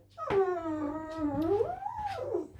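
A dog howls and whimpers indoors, one long wavering, rising and falling cry close by with short yips at the end and no talking.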